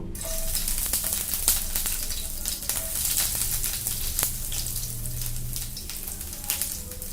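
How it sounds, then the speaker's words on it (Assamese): Onion drops into hot mustard oil in a pan for a tomato paneer fry, giving a steady, close crackling sizzle with scattered sharp pops throughout. "তেলখিনি গৰম হৈছে এতিয়া ইয়াত দি দিম নহৰু"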